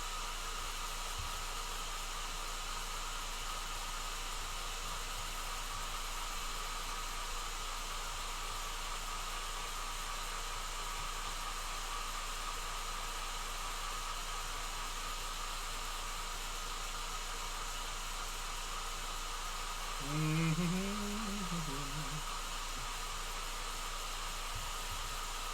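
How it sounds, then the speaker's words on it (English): A hair dryer blows steadily on a painted miniature, a constant, fairly quiet hiss and whir that runs unbroken through the whole stretch, with a brief rising-and-falling squeak near the end. "Hit it with the air dryer."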